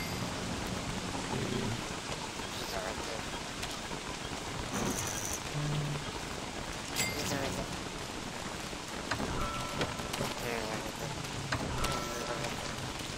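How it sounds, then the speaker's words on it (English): Frog rain falling in the Don't Starve Together video game, a steady heavy hiss of rain across the whole stretch, dotted with small game effects and faint croaks. "Frog rain? Freaking frog rain."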